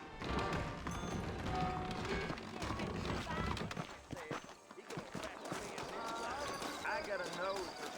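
Horse hooves clip-clop at a steady pace in Red Dead Redemption beneath people talking, mixed with ambient game sounds and occasional louder taps.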